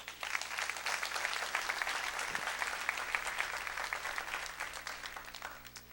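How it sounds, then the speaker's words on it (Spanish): Steady congregational applause during a church sermon, a crowd clapping evenly and continuously at moderate volume for several seconds, with no talking over it. "Denle un aplauso al Señor."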